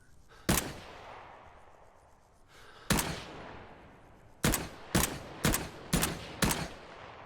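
Gunfire from a weapon in the video game Rising Storm 2: Vietnam: a single loud shot, a pause, another shot, then four evenly spaced shots in a steady semi-automatic rhythm, each with a short ringing tail.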